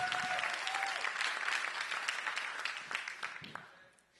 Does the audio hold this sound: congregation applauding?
yes